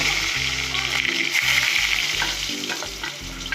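Onions with green chillies, dried red chillies, ginger, garlic and curry leaves sizzle in hot frying oil, a steady loud crackle and hiss alongside a rhythmic low thumping pattern, with no voices.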